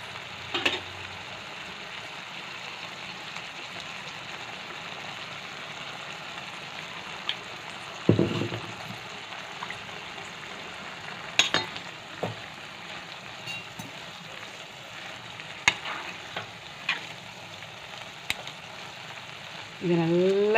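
Vada curry sizzles and fries in a pan with a steady, broad crackle throughout, broken by occasional scrapes and clinks of stirring, with a brief louder stir midway.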